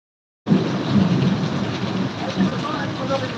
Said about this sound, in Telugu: ఈ ఇయర్ లో స్టార్టింగ్ నుంచి ఇప్పుడు ఇదే పెద్ద వర్షం.